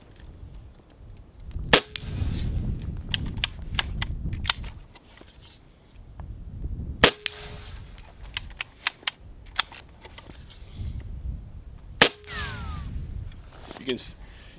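Suppressed Benjamin Armada air rifle firing three sharp, muffled shots several seconds apart, with clicks and handling noise between them and someone talking underneath.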